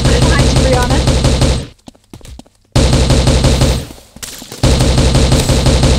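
Gunfire in the video game Havocado, loud dense bursts of rapid machine-gun shots in long stretches broken by a couple of short quieter gaps with scattered single pops.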